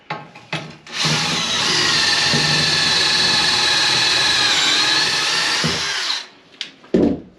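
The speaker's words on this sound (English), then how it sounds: "But I put 2 pocket screws on one side and then one centered on the other" A DeWalt power drill drives pocket screws into wooden wall framing during a shed-to-tiny-house reframing job: one loud, steady whir lasting about five seconds, with short bumps and knocks before and after.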